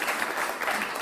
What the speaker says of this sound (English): Yes, I think that deserves a round of applause.